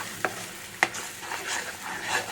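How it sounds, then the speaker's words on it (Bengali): Spices with turmeric, chili powder, salt and sugar are stirred in a hot pan. A soft sizzle runs under a couple of sharp utensil scrapes and clinks, followed by gentler stirring. "হলুদ গুঁড়ো লঙ্কার গুঁড়ো নুন মিষ্টি দিয়ে এটাকে এবার নাড়াচাড়া করবো"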